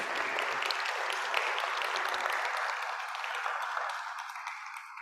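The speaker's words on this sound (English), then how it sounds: "I thought we'd give them a round of applause for joining us." A room full of people applauds steadily, a dense wash of clapping that fades slightly toward the end.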